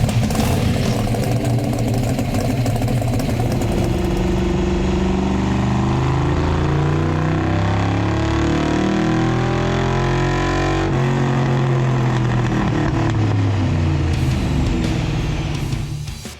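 A 1933 Dodge hotrod engine with custom fabricated headers runs loud and close with some rocker noise from one bank, its revs rising and falling in smooth sweeps over a steady rumble before cutting off at the end.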